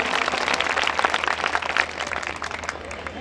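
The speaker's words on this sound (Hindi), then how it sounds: "अपने मेहमानों का भी ताली बजाकर आप लोग इस्तकबाल करें" Audience clapping to welcome guests at a village programme, a dense, steady wash of many hands applauding together, loud and fairly close, easing slightly toward the end.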